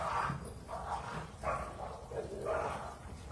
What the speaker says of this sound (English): You guys hear them making a mess back there?